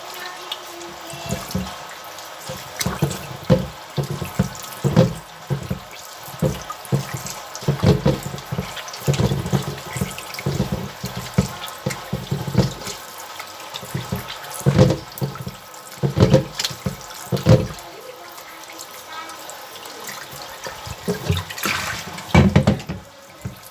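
Tap water runs into a sink while flour dough is washed and squeezed by hand, giving a steady splashing flow broken by irregular sloshes and bursts over about twenty seconds, with no talking.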